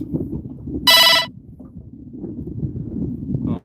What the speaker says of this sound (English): somebody just texted me